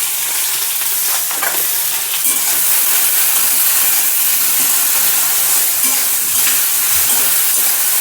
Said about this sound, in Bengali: একটু লবণ আর একটু হলুদ দিয়ে ঢেঁড়সটা ভাজবো আমি